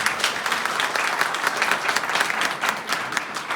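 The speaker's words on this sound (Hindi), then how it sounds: "एक जोरदार तालियां होनी चाहिए।" Loud, dense applause from a large seminar audience, continuous clapping throughout with no speech over it.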